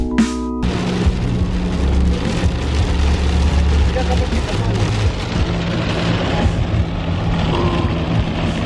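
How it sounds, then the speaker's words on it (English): Heavy rain pouring down, a loud dense constant wash, heard from a vehicle parked or moving in the downpour, with some low rumble beneath. "It is fucking raining so hard."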